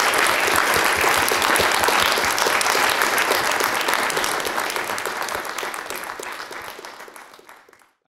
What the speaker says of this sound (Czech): Potlesk pro Radima Jančuru.